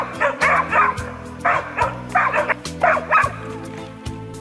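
A hunting dog chasing a sable in winter barks repeatedly in quick bursts of two or three, loud and close, with brief yips between the volleys.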